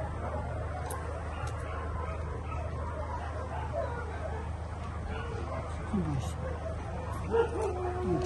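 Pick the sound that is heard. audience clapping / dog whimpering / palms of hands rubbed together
dog whimpering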